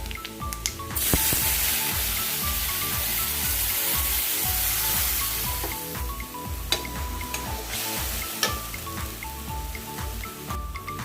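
Onions and curry leaves fry in a pan for a Tamil eggplant kuzhambu, giving a steady soft sizzle and crackle with occasional louder pops and spoon scrapes, with no voices.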